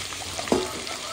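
Kachnar and chicken pakoras in gram-flour batter fry in hot oil for a village iftar, giving a brief, close bubbling sizzle with a small spattering burst midway.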